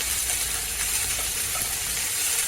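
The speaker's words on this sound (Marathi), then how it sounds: "जी चिरलेली शिमला मिरची आहे ती आपण ह्या तेलामध्ये टाकायची आणि स्लो गॅसवरती आपल्याला कंटिन्यू परतून घ्यायचं आहे" Chopped capsicum (bell pepper) frying with garlic in oil over a low flame, giving a steady, close sizzle with faint crackles and no talking.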